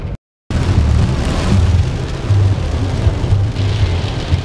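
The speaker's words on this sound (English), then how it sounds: "But holy crap, this rain, guys, it's insane" Heavy rain pours down in a dense, continuous roar, loud and close, with no talking over it.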